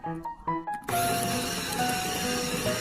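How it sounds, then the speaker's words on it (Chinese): An electric meat grinder switches on and whirs steadily while mincing cut pieces of lean pork into filling, its motor whine starting abruptly after a few brief clicks and knocks. "切好之后放入绞肉机里，然后盖上绞成猪肉馅"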